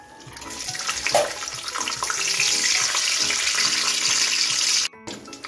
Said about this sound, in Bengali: এখন আমি কাজু কিশমিশটা ভেজে নিচ্ছি